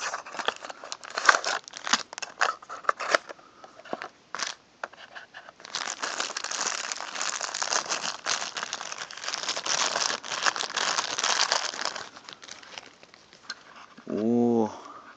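Plastic packaging for a Tomica Honda Odyssey wagon taxi toy car crinkles and rustles with scissor snips, close and busy for most of the span, with a brief voice near the end.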